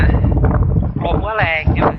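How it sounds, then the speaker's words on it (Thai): Strong wind at the beach in Cha-Am, Thailand, roars as a heavy low buffeting on the microphone, loudest at first, while someone talks over it. "ลมก็แรงอยู่"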